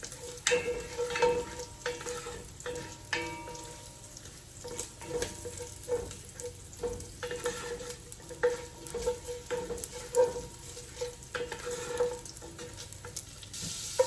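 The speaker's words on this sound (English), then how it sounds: "Oh, it's popping a little bit. Smells really good, very bacony in here." Bacon sizzles steadily in a frying pan with scattered small pops and crackles throughout, close and moderately loud, with no voices over it.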